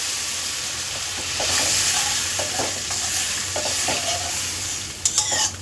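Water is poured onto fried masala in a pan, setting off a loud, continuous sizzle with scraping stirring strokes at intervals and a sharper burst of hissing near the end, no voices.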